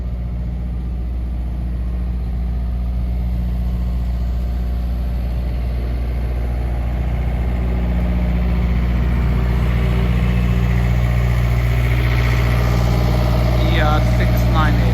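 A Kubota rice combine harvester from Japan idles with a constant loud, low engine drone and rumble, with no change throughout.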